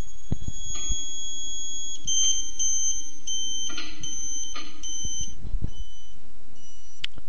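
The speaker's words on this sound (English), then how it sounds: "Move the elevation adjustment bolt until you hear the beeper tone drop." Electronic alignment beeper on a Surfbeam 2 satellite terminal while the dish elevation bolt is adjusted: loud, steady high-pitched tones broken into short beeps and gaps, pitch shifting as the beeping pattern changes, with faint clicks underneath.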